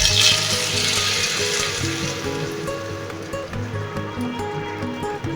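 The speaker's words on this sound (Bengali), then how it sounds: "আমি এবার ভালো করে মশলার সঙ্গে কষে নেবো" Capsicum and potato sauté with cumin powder, coriander powder, salt and a little water in a pan, giving a continuous bubbling sizzle, louder at first and then easing slightly, with soft music underneath.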